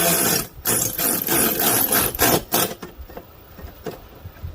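Ratchet wrench with a 10mm socket tightening a fastener on a Ford F150 during an oil catch can install, a dense run of close rasping clicks in bursts for nearly three seconds, then quieter scattered ticks.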